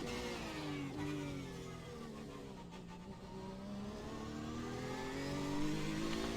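BMW race car in iRacing at Sebring, its engine revving continuously with a steady, slightly rising roar that holds for several seconds, close and loud, with no talking.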